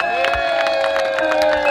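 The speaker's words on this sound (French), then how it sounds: "Applaudissez pour vous-même," A crowd cheering and clapping at a political rally, loud and close, with sharp bursts of claps and shouts over a sustained, tonal swell of voices.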